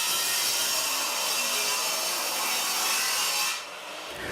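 Spotted gum timber top rail for a balustrade being hand-sawn to size, a loud, continuous rasping saw stroke with no voices.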